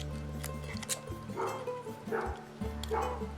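A pet dog barks and yips repeatedly indoors, several close, sharp calls in an uneven rhythm over a loud steady hum, with a few whimpering tones between barks.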